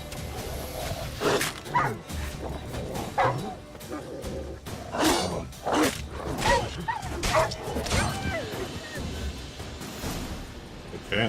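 A pack of wild dogs in The Witcher 3 barks and yelps repeatedly during combat, sharp close bursts layered with impact and game effects at a loud, busy level.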